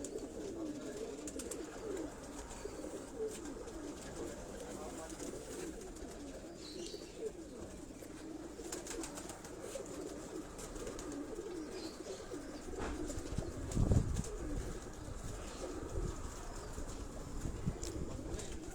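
Soft, steady cooing of pigeons in a rooftop breeding setup in Karachi, Pakistan, under a constant low rumble, with occasional wing flaps and faint background chatter.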